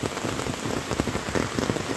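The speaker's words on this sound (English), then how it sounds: "Laying here in my tent, it's pouring, literally pouring rain, and the water hits the bottom" Heavy rain pours steadily onto a tent on the Appalachian Trail, a dense, continuous close-up patter of drops drumming on the fabric, with no voices.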